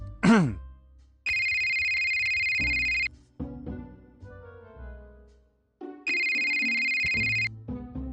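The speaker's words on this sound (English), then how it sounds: "when a phone suddenly starts ringing" A phone rings in a video game: two loud, steady electronic ringing bursts with bright buzzy tones, separated by short synthetic game blips and effects.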